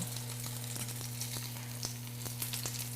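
Fish fries steadily in hot oil in a pan, with a constant crackling hiss and occasional sharper pops, plus a low steady hum beneath.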